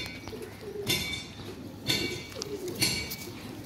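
Pigeons kept for a flying pigeon game coo softly, with a few brief calls repeating about once a second against a faint, quiet background.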